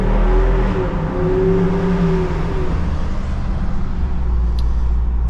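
A Jeep Wrangler Rubicon 392 V8 engine rumbles and revs steadily up close, a deep continuous growl with rising and falling pitch and no talking.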